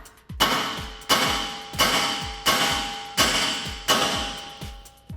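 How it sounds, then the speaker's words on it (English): Hammer strikes on the top of a steel spindle on a 2019-2022 RAM 1500 truck, knocking loose the ball joint: five or six sharp, ringing metallic taps at a steady, unhurried pace, close and loud, each followed by a brief ring. "So now we can take our hammer and give the top of our spindle a couple taps."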